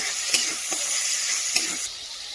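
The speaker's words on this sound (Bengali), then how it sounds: "এখন দিয়ে দেবো কিন্তু কাঁচা লঙ্কা বাটা, সেটা দিয়ে অল্প একটু কষিয়ে নেব।" Green chili paste sautéing in a hot pan gives a steady bright sizzle with a few soft stirring knocks, close up and without speech.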